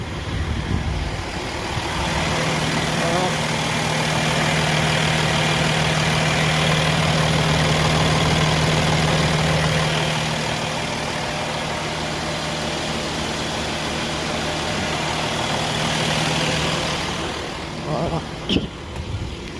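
A Porsche Cayenne 250 TDI diesel engine idles with a steady, even low hum, heard close for most of the stretch and ending with a brief knock near the end.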